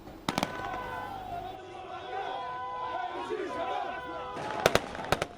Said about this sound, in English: The sound of gunfire is common in Sirte. This time, though, it's in celebration.